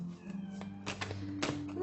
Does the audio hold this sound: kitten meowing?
yes